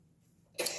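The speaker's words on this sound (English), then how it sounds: "He was having a coughing episode." A small child coughs once or twice in a short burst, loud and close, after a quiet moment.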